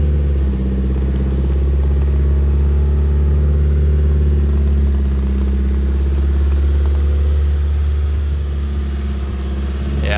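A car with a very flat front right tyre reversing out, its engine a steady low rumble at idle, close and continuous with no talk.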